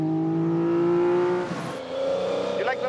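A rally Mini fitted with a 400 horsepower engine revs hard, a loud close engine note climbing and dropping with gear changes over a few seconds, with faint tire noise in the background.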